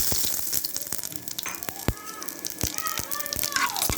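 Bay leaves, dried red chilli and whole garam masala spices with cumin frying in leftover potato-frying oil, giving a steady close sizzle and crackle with scattered sharp pops and utensil clicks throughout.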